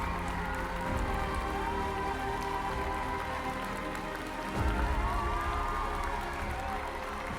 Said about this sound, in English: The applause and expressions of joy from the attendees lasted 5 minutes.